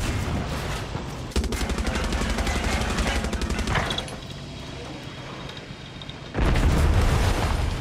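Tank in Far Cry 6 with rapid machine-gun fire, a heavy cannon boom, and a loud rumbling blast near the end, all close and continuous with no talking.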